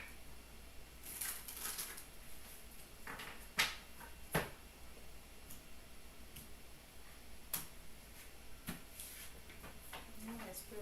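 Tarot cards shuffled by hand close up, a quiet run of soft flicks and sharp taps with scattered clicks, faint and uneven.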